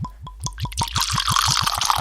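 Gunfighter 13 bourbon whiskey glugs from a bottle in a rapid, regular rhythm of close gurgles, settling into a fuller, splashing stream as the pour continues.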